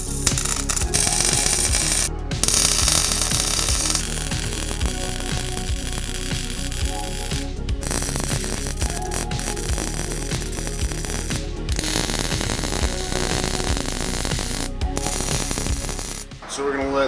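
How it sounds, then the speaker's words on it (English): A sissy bar is welded onto a chopper frame in long, steady crackling bursts. Brief pauses separate the welds. "we're gonna go ahead and get this thing tacked up and welded"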